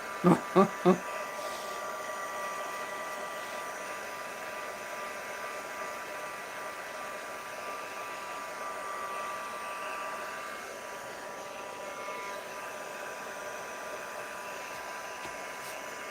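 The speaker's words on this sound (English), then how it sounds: "ordered some kind of blower and it was from the automotive department" An automotive blower used as a dryer, set on its lower setting, gives a steady close whooshing roar that holds nearly unchanged throughout, with a few short knocks right at the start.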